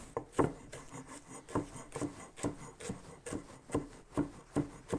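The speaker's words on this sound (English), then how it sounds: "So you can do this the old-fashioned way with a knife like I'm doing" A sharp knife chops rolled-up wild garlic leaves on a wooden board in a steady run of close, crisp thuds, roughly two or three strikes per second, with no talking.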